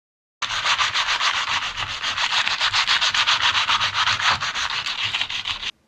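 Rapid, rhythmic scratchy strokes of sanding a carved marlin bill rasp back and forth steadily, close and fairly loud, with no talking.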